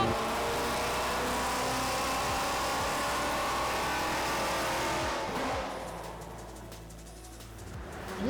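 A loud project car engine roars at high revs, a dense sustained blare that holds steady for about five seconds before easing down to a lower idle-like rumble.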